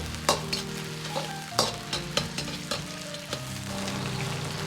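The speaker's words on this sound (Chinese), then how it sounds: "炒至肉片稍微发白，接着下入葱姜蒜，煸炒出香味" Pork slices with scallion, ginger and garlic stir-fried in a wok, a steady close sizzle with sharp metal scrapes and spatula clanks of stirring recurring every second or so, no talk.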